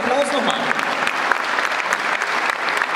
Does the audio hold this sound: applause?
yes